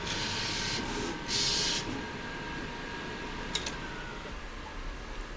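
A sublimation printer runs a nozzle check, a steady mechanical hum and whir with brief hissing bursts and small ticks as the head moves, close and moderately loud.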